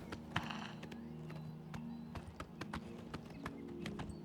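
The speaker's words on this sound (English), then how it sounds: "The paint horses are nice," Horse hooves clip-clop steadily in Oblivion Remastered as a paint horse travels at an easy pace, with a few sharper knocks breaking up the even rhythm and no voices.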